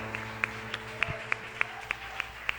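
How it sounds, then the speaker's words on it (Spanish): A church congregation claps for the Lord, heard as a regular, evenly spaced beat of single sharp claps over a low hum rather than a full crowd roar. "Bríndale un fuerte aplauso al Señor"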